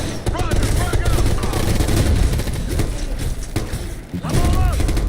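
Light machine gun fire in a tactical shooter video game, dense continuous bursts mixed with other gunfire and thuds, loud throughout, with brief voice chatter over it.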